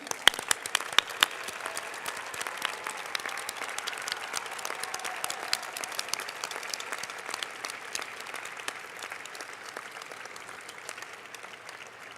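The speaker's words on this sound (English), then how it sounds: "Can we give them a round of applause, and can you please stand?" An audience at a closing ceremony applauds continuously for a long stretch, a steady wash of many hands clapping at moderate level, gradually easing toward the end with no voices prominent.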